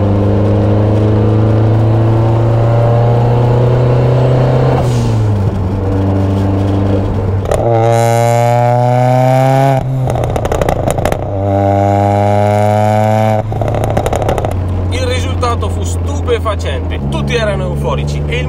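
Ford Sierra RS Cosworth in Moonstone blue driven on the road, its engine droning steadily with rising and falling revs through gear changes, heard under continuous talk.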